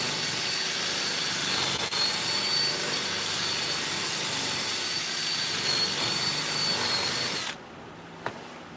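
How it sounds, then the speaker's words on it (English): A drill bit routes out a tight hole in a Tesla coil primary, a loud, steady whirring grind that runs for several seconds and then cuts off abruptly. "So I'm going to have to route it out a little bit with the drill bit to get it in there."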